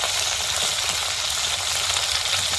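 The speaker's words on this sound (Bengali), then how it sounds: "यहाँ पे टैंगरा माछ मम्मी अच्छे से फ्राई कर रही है।" Tangra fish fry in hot oil in a Bengali home kitchen, giving a close, steady sizzle with a dense, even hiss that holds throughout.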